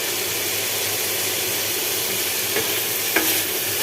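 Spices sautéing in a pan, a loud, steady close sizzle with a low hum underneath and a couple of sharp stirring clinks near the end.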